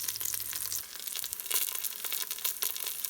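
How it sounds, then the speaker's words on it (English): Onions sauté in oil inside an Instant Pot with a constant crackling sizzle and scattered sharp pops, close up and with no voices. "we've let these saute a little bit for about 3 minutes undisturbed"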